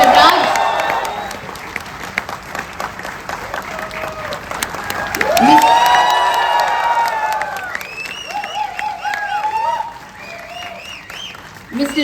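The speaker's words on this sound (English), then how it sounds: "So with a big round of applause, please welcome Mr. Manoj Bajpai" A live audience at an event on OTT content creation applauds and cheers as guests including actor Manoj Bajpai are welcomed, a dense sustained wash of clapping that swells midway, with whoops and voices rising over it.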